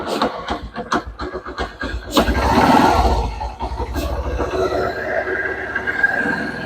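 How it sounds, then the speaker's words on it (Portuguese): A small gasoline engine with a carburetor sputters through rapid uneven firing pulses as it starts, then settles into a loud, steady close-up running drone. "Funcionando a máquina aí, vamos dar uns ajustes aqui no carburador."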